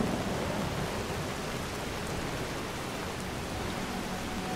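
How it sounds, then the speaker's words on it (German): Steady rain pours down across a peninsula in the game Enderal, a dense, even hiss of falling water that stays constant and fairly loud throughout, with no voices. "Diese Halbinsel scheint wohl nur Regen zu kennen und sonst gar nichts."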